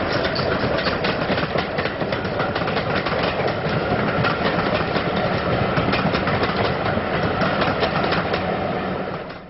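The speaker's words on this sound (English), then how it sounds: "BR Black Liveried 6990, with its appropriate train of assorted BR Liveried coaches," BR Black 6990 steam locomotive passes with a rake of assorted BR-liveried coaches, a dense continuous rumble with rapid rhythmic clatter of wheels over rail joints, close and steady throughout.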